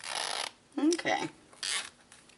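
A zipper pull is run along the zipper of a handmade sewn wristlet clutch in several short, close zips, with someone speaking briefly between them.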